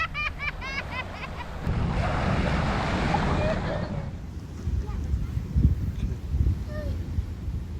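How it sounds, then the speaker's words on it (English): Wind gusts across a microphone on a tropical beach at night while waves wash in, with soft rustling turbulence rising and then easing, and a few faint voices in the background. "it's got a really cool breeze tonight"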